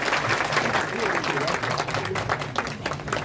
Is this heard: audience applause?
yes